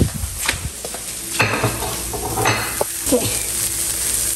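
Food sizzles steadily in a hot pan on the stove, a constant frying hiss punctuated by a few clinks and scrapes of utensils, with a brief spoken word near the start.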